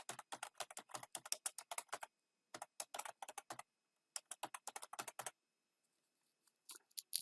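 Bursts of typing on a computer keyboard while working in Microsoft OneNote, quick close key clicks in several runs separated by short pauses, with no talking.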